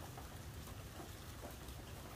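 Rain falling on a tent during an Appalachian Trail thru-hike, a faint, steady hiss of dense patter with no breaks and no voices.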